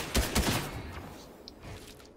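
Several loud gunshots from a DMR sniper rifle ring out in the Fortnite video game. They come as a quick burst near the start, followed by fainter shots and echoes that fade out.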